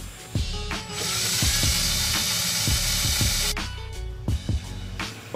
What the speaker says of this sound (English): So what I'm going to do is drill a hole